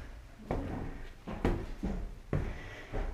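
Old, rickety wooden attic stairs creak under climbing feet in a Honfleur B&B, four distinct creaks and thumps spaced about a second apart, close by with no talking.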